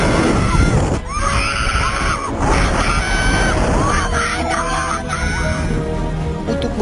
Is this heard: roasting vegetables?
no